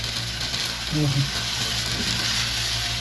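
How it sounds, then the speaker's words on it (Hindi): Semolina halwa sizzles steadily as it fries in ghee in a pan, a soft continuous hiss with a brief low voice murmuring near the start. "इसको हम ऐसे ही फ्राई करेंगे तो कितना अच्छा हो जाएगा।"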